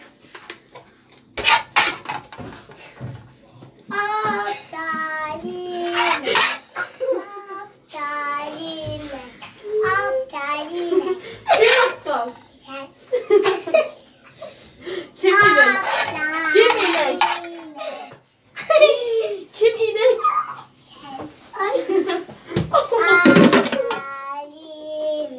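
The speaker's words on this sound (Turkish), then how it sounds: "Arkadaşlar benim çocuklar da oynuyorlar, bağırıyorlar." Children playing and shouting indoors at home while manti is cooked, with frequent loud kid voices mixed with clattering dishes, pots and cutlery throughout.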